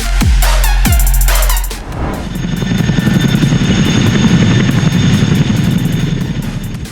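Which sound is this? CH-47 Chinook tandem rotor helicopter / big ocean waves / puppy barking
CH-47 Chinook tandem rotor helicopter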